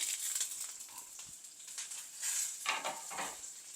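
A handful of curry leaves fry in a pan with prawn masala, giving a steady crackling sizzle with faint stirring scrapes and soft utensil clinks, close and continuous throughout.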